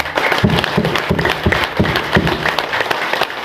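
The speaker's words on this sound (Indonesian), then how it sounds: "Tepuk tangan bagi kita semua." A gathered crowd at a martial arts trainer examination event gives a round of applause, brisk uneven clapping with some deeper rhythmic thumps mixed in, moderately loud throughout.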